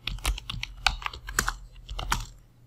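A command being typed on a computer keyboard: a short burst of distinct key clicks at an uneven pace, close and clear, ending with a slightly harder keystroke, with no voices.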